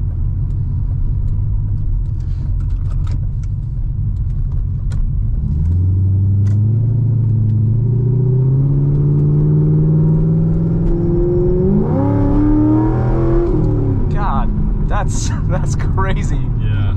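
A modified 2008 Chevrolet Corvette accelerates hard from inside the car, its engine rumble climbing steadily in pitch through the gears, loud and continuous, with people talking over it near the end.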